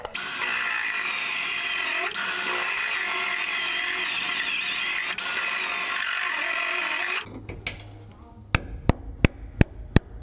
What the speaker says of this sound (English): Next step is going to be drill out these spot welds